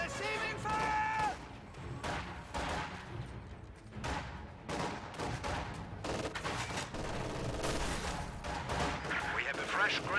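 Video game battle gunfire in a real-time strategy match, dense bursts of rifle and machine-gun fire with heavy artillery-like booms, loud and continuous across the whole stretch.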